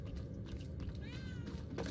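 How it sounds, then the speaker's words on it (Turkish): A cat in the game Murdered: Soul Suspect gives one short, faint meow over a steady low background hum. "Vallahi kedi var."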